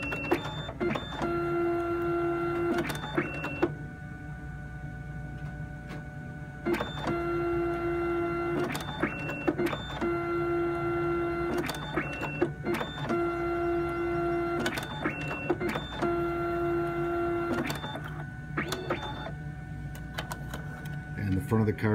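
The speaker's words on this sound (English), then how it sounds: "And the front of the card is printed." A single-sided printer feeds and prints the front of a card, making repeated mechanical whirring passes with clicks and sustained motor tones in a regular cycle, close and fairly quiet.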